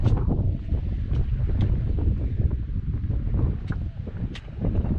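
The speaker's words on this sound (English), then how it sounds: "It's pretty windy, but it's comfortable temperature." Strong wind buffets the microphone with a constant low roar and gusty rumbling, heard alone outdoors on a mountain trail near Huntington Ravine.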